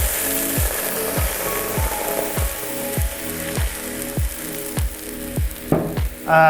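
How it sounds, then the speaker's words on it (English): A frying pan being deglazed while making boeuf bourguignon sizzles loudly and continuously while something scrapes across it in a regular rhythm, with a burst of hissing at the end. "So first I need to deglaze this frying pan"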